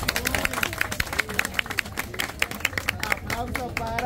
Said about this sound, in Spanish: Vamos a ver, aplauso para Vanessa